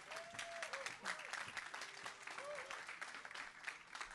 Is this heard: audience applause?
yes